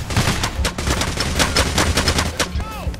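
Rapid, loud gunfire from the Payday: The Heist video game, with dense repeated shots running continuously throughout, ending in a brief whining ricochet-like tone.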